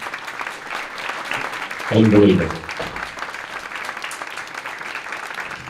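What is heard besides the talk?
audience applause at a memorial service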